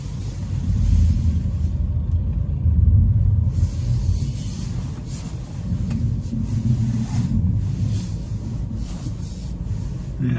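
An electric Mini pushing through deep snow on snow tyres, a continuous loud low rumble and hiss of tyres and body churning through heavy snow, close and steady with slight surges.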